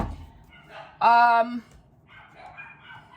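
A dog gives a single loud, drawn-out bark of about half a second, close by, between stretches of a person talking quietly.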